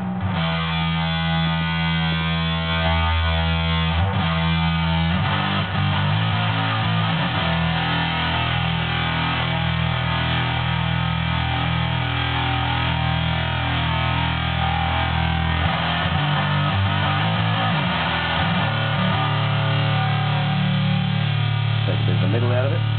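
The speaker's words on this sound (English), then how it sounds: "I do like the fuzz sounds on this pedal." A thick, buzzing fuzz-distorted electric guitar through a modified Zoom 3030 multi-effects pedal plays continuously and loudly, with sustained chords and shifting notes.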